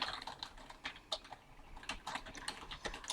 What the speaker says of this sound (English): So I can just type in a subject and then hit Tab again and type in the body.